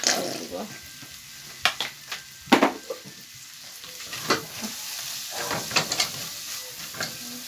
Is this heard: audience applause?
no